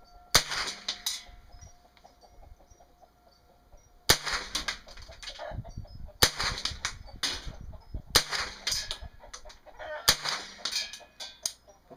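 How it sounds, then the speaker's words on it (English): A rifle fitted with a .22 conversion kit fires five sharp cracks spaced roughly two seconds apart, each followed by a short ringing decay, over faint background noise. "send down a few rounds."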